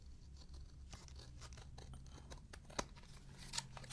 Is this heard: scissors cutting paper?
yes